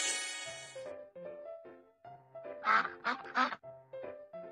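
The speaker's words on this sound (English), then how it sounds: "Duck." Cartoonish duck quacks in a children's mobile game, Baby Panda's School Bus: a quick burst of several loud, close quacks in the middle of a cheerful background tune.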